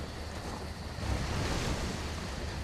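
Water surging up and down in the video game Metroid: Other M, a steady broad rushing wash that swells louder halfway through, with no talk.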